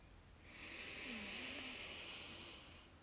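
A long, slow inhale during a relaxation breathing exercise, a soft airy hiss that swells gently and then fades, close and quiet with no talking.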